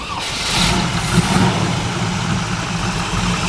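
The small-block V8 of a 1968 Chevrolet Camaro RS/Z28 idles in a steady, close rumble with a slight swell early on and no talk over it.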